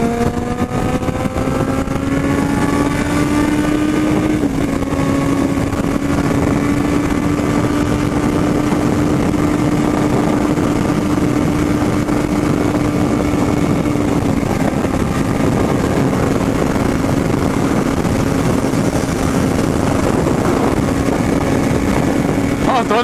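A Yamaha XJ6 and a Kawasaki Z750 motorcycle accelerate on the road, their engine whine climbing steadily in pitch through the gears, loud and close under heavy wind rush.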